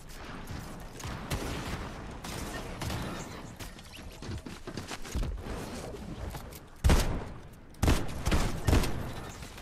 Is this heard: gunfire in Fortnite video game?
yes